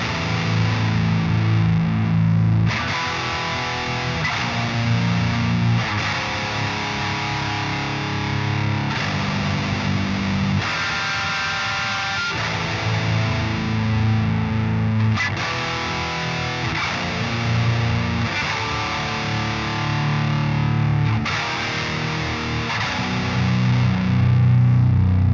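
A heavily distorted electric guitar plays a riff, loud and dense, with chugging low-string chords shifting in repeated sections over about 25 seconds and no voices.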